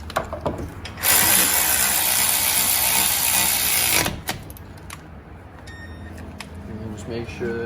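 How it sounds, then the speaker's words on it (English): Bolts are tightened during a brake change on a Hyundai Elantra. A loud burst of harsh mechanical whirring is followed by quieter clicking ratchet work, with a voice talking near the end. "Just make sure that they're extra snug with a normal ratchet."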